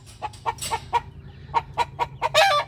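Hens clucking in a series of short, separate calls, fairly close, with a louder squawk at the end and a low hum underneath.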